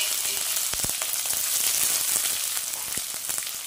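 Onions frying in hot oil with burnt garlic give a dense, loud, continuous sizzle close up, with a few brief clicks from stirring.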